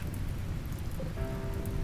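Steady rain in the survival colony game RimWorld: an even, hissing wash of falling drops with no breaks, heard alone over the short stretch.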